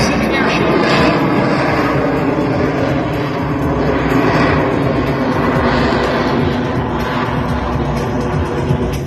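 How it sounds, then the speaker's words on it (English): A Yak 110 aerobatic aircraft, built from two radial-engine airframes with jet engines slung underneath, roaring loudly at the 2022 Pacific Airshow, a steady heavy engine drone and rumble with an announcer talking over it. "This airplane is called the Yak 110 and is by far one of the highest performing aircraft of its type"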